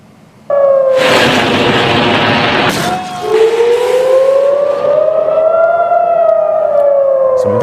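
A loud air raid siren in Jerusalem wails steadily as missiles are intercepted, its tone slowly rising and falling, with a burst of broadband noise near the start.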